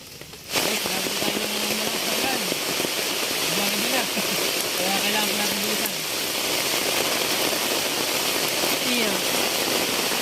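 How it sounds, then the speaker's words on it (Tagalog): Heavy rain pours down by a river in a dense, steady roar, with a voice talking underneath it throughout. "Namumuti po ang paligid sa lakas ng ulan."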